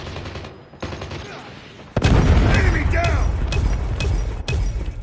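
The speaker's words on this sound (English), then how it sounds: "Predator missile inbound." A Predator missile strike in Call of Duty Mobile lands with a sudden loud boom, then continuous heavy rumble and gunfire, with voice callouts in the mix.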